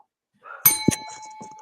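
A bright notification bell chimes once, a sharp metallic ding with a brief ringing tail, heard alone and close.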